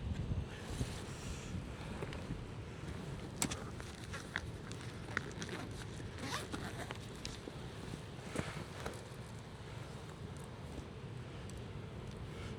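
Strong 35 mph wind buffets the microphone during a fishing trip: a constant low roar with gusty rumble throughout, occasional faint clicks and ticks on top, no voices.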